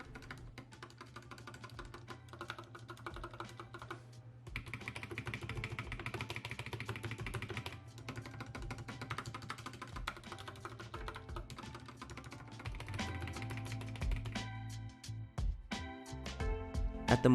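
Keys on an Asceny One budget 60% mechanical keyboard are pressed to show off its stabilizers, giving quiet, close clacks and taps in irregular clusters that speed into quick rattling runs near the end.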